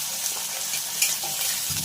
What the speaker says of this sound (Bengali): চিংড়ি মাছগুলো ভালো করে ভাজা হয়ে গেছে, এবার আমি এগুলোকে তুলে নেব।